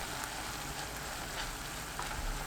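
Kohlrabi stir-frying in a pan over high heat with perilla seed powder, a steady close sizzle and crackle that continues unbroken throughout.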